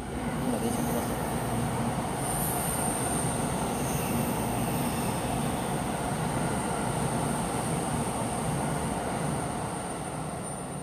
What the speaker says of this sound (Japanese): 今電車来ました。